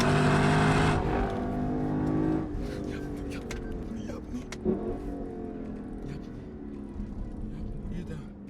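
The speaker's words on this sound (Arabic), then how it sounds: "سمع الصوت مع الموتور مع نقلة الجير" A 2021 Lexus LC500 convertible's engine revs and drops through gear shifts, with a loud rev at the start, a sudden change in pitch at a shift, then a steadier engine note with a brief blip midway.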